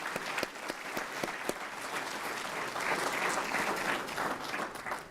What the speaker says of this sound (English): let's give another round of applause for for recruit class 2204